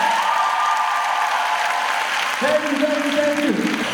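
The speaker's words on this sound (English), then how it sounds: "Can I get a huge round of applause for the amazing senior women that are putting on the show tonight?" Loud, dense applause and cheering from an audience at a Mr Fintastic pageant show, continuous throughout with a voice or whoop rising above the clapping partway.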